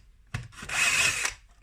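A hole saw bites into material in a single short burst, a close, loud whirring grind lasting about a second with a sharp start and abrupt stop, the saw's teeth no longer very sharp.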